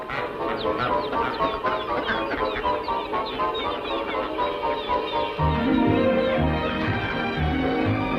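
Dense chorus of waterfowl calls on a river at Disneyland in 1962, continuous overlapping squawks and clucking cries from many birds nearby, growing slightly louder toward the end, with no talk.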